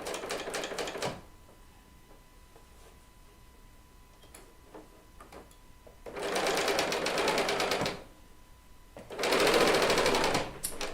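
An L890 serger runs in three short bursts of rapid, rattling stitching, each lasting one to two seconds, separated by quiet pauses with small handling clicks.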